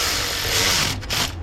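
A torque wrench ratchets with a close, busy mechanical clatter while tightening to 12 newton meters on an engine oil pump job, ending in a brief clicking flurry.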